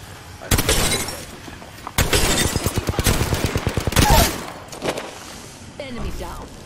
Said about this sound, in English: Shoot that gas trap so that we have a bit of space from them.